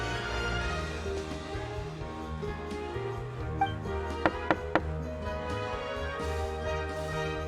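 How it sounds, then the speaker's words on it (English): A door is knocked on in Genshin Impact, three sharp raps in quick succession that stand out over continuous background game music. "Okay, I'll go knock on the door."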